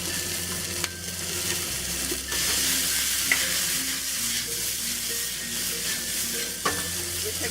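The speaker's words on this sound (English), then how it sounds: "Put in the garlic and chili peppers. Give this a quick stir. We'll add the asparagus." Garlic and chili peppers stir-fry with asparagus in a hot pan, a loud, steady sizzle broken by a few sharp utensil clicks and tossing shuffles, up close with no talking.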